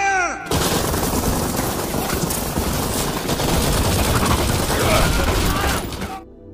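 In a film scene, soldiers open fire on a strange creature: dense, continuous automatic gunfire with mechanical clatter and breaking sounds, loud and unbroken for about six seconds before cutting off.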